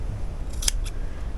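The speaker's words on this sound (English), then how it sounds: "These are called ragging scissors." Ragging scissors snip through layered cotton quilt fabric for a baby rag quilt, giving two quick, crisp cuts close by with no voices.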